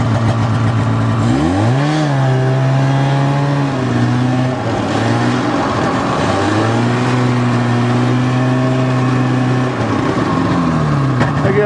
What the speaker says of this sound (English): Maybe a horrible old knocking Chevy truck.